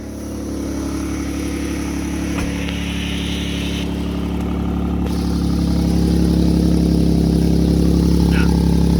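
A 2012 Jeep Wrangler 3.6 V6 with an exhaust leak at the crossover flange, idling steadily nearby with a low continuous rumble that swells slightly toward the end.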